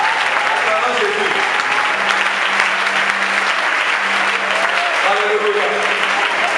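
Sustained applause from a church congregation during a worship gathering, dense and steady throughout, with a low hum and faint voices mixed into the clapping.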